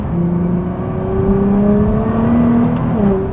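A Nissan R35 GT-R engine drones and rises in pitch as it accelerates, a steady close whine with no talking.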